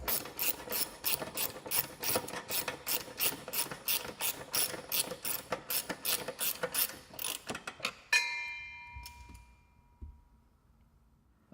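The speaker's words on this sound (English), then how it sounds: "we're going to use our 10mm deep well socket again" A ratchet with a 10mm deep well socket snugs hex nuts during an MT-82 transmission install on a 2011-2014 Mustang, a steady run of rapid metallic clicks for about eight seconds, then stopping with a brief ring and quiet.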